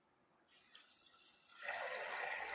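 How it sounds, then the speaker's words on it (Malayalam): Water is poured into a pressure cooker holding chickpeas and salt, a soft, brief trickle that swells into a fuller, splashing pour near the end. "വെള്ളം ഒഴിച്ച്"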